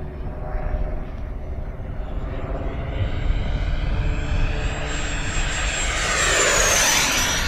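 An AeroFoam L-39 RC jet on a 6S LiPo setup makes a fast downwind pass, its steady electric ducted-fan whine and rushing roar holding loud and close, then swelling with a rising Doppler sweep as it nears.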